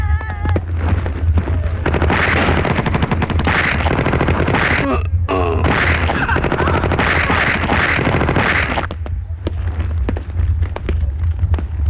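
Rapid gunfire from a Hindi action film about the 26/11 attacks, a dense, loud stream of bursts and pops over a steady low drone, with brief voices and a short lull near the end.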